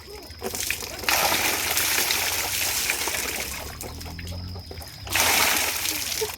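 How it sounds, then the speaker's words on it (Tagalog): Floodwater from heavy rain splashing and sloshing in town, a steady close wash of churning water rising in two loud surges, with faint talk underneath. "grabe nga gid nga tubig. Lawom na gid kaayo."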